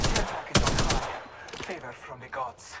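Rapid automatic gunfire in the video game Apex Legends, a burst of sharp loud shots followed by fainter scattered fire, with players talking over it.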